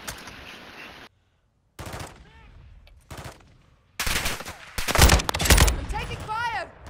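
Gunfire in Call of Duty: Modern Warfare II, bursts of rapid automatic shots and sharp single cracks in uneven clusters, growing louder and denser toward the end, with speech mixed in.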